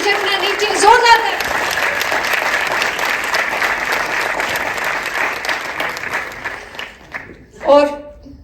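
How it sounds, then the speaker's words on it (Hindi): Concert audience clapping at a classical music birthday celebration, loud continuous applause that fades toward the end, with brief voices at the start and close. "जब ताली बजाने का मन हो तो कभी झिझकना नहीं चाहिए, जोरदार।"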